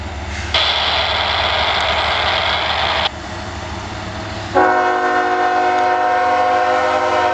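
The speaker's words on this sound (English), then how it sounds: "A coal train." A Norfolk Southern coal train at Berryville, Virginia sounds long, loud horn blasts close by, with the shifting chord cutting in and out over the steady rumble of the passing cars.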